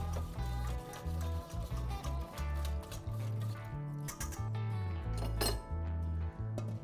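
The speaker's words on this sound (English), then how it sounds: "Whisk it in." Metal whisk beating hot chicken soup into eggs to temper them for Greek avgolemono, giving rapid rhythmic clinks against a bowl in a steady, close run.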